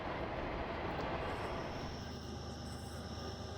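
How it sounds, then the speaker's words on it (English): A Norfolk Southern Southern heritage locomotive leads a passing executive train, a faint, steady rumbling rail roar from a distance that eases slightly toward the end, with no talking. "we see the Southern Heritage Unit from Norfolk Southern leading the OCS Executive Train"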